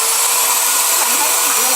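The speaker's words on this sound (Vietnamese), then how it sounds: "bây giờ thì chúng ta sẽ thử với tốc độ khoan nhanh. Đó là 3000 vòng một phút." A Hitachi DV18V drill runs steadily at high speed, around 3000 rpm, giving a continuous loud whirring whine with no pauses and no talk over it.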